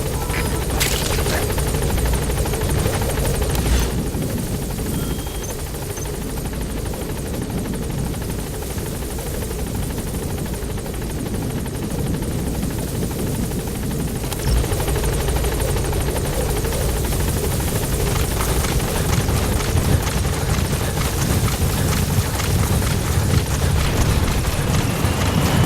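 A support helicopter arrives in the game Metal Gear Solid 5, its rotor thumping and engine whining loud and continuous close overhead for the whole stretch.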